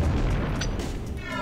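Cannon fire in the State of War video game: a dense, heavy boom with a rumbling low-end roar that fills the short moment, with no talk over it.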